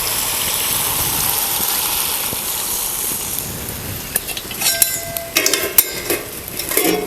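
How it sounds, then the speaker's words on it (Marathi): Water is poured into a pan of village-style black chicken sukka, a steady wash of pouring and splashing with sizzle, followed by clinks of a utensil against the pan toward the end. "आता पाणी ओतूया"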